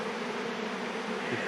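A dense swarm of honeybees buzzes around a hive box outdoors, a close, continuous droning hum with no pauses and no voices.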